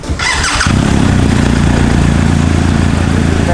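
A motorcycle engine starts after a short hiss and crank, then settles into a loud, close, steady running note with a slightly uneven pulse.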